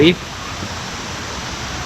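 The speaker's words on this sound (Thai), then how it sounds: "นี่มีน้ำตกน่าเล่นมากเลยฮะ" A waterfall beside a resort at the Mon village of Huai Nam Sai in Suan Phueng, Ratchaburi, gives a constant broadband rushing hiss. A brief sound at the very start is followed by steady falling water.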